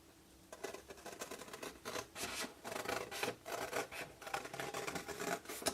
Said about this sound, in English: I'm cutting to the left of the lump.